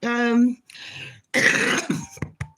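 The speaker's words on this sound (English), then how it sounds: "I've got a right nasty cough" A short voiced sound, then a few harsh, raspy coughs close to the microphone, with a couple of smaller bursts trailing off at the end.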